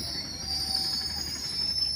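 A train passing through Bokajan railway station, heard as a continuous rumbling roll with a sustained high-pitched metallic wheel squeal running steadily throughout.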